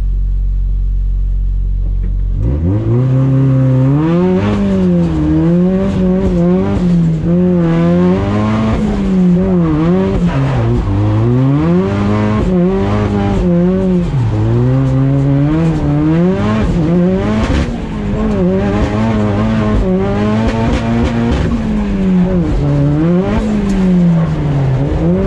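Ford Mustang drifting on a mountain pass: loud, close engine revving that rises and falls in repeated surges, with tire noise layered over a continuous roar.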